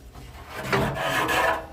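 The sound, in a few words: opening a Traeger pellet grill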